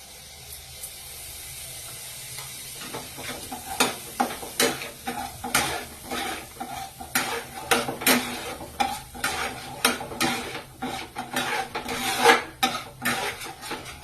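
A spoon stirs a gravy with sour curd in a pan, giving repeated scraping strokes against the metal over a soft sizzle, fairly close and rhythmic throughout.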